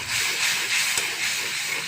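Shrimp going into oil and spice paste cooked down until the oil separates, giving a steady, loud broadband sizzle and hiss close up with no talk.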